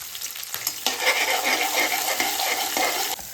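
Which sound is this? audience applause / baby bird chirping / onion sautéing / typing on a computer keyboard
onion sautéing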